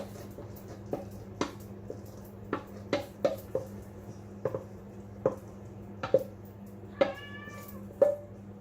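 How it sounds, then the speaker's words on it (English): A cat meows repeatedly in short, faint calls at an irregular pace, heard from a little distance over a quiet, humming room. "That's my little cat you can hear in the background."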